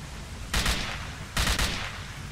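Two short automatic bursts from an assault rifle in S.T.A.L.K.E.R.: Call of Pripyat with the Sigerous Mod, each a loud cluster of rapid shots separated by about a second, ringing over a steady ambient background.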